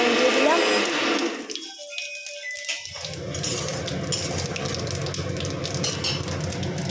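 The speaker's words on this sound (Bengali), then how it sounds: "এই যে জিরে আর লঙ্কা ফোড়ন দিয়ে দেবো" Cumin seeds and dried chillies hit hot oil for a chicken curry. A loud watery hiss drops briefly away, then a steady close sizzle settles in and carries on evenly.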